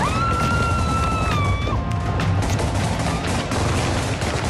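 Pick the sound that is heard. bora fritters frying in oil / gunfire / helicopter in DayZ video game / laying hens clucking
gunfire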